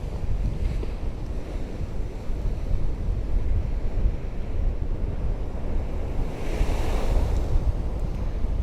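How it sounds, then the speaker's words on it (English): Steady roar of ocean surf breaking at daybreak along a beach with sand and rock pools, a continuous wash of waves with some wind buffeting the microphone, swelling slightly louder near the end. "Amazing waves though."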